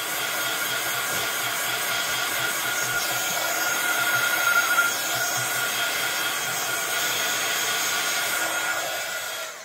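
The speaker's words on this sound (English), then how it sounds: "what I want to give this a wee blast again with the heat gun" A heat gun blasts steadily over black dimensional paste on a mixed media card, a continuous close, loud airy whoosh with no pauses for about ten seconds.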